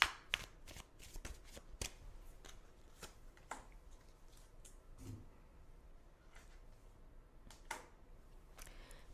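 Tarot cards shuffled by hand, a long run of crisp riffling flicks and soft slaps with irregular rhythm, close and fairly quiet, no talking.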